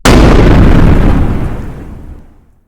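A single loud explosion sound effect hits instantly, a deep, full blast that rumbles and decays over about two seconds into silence.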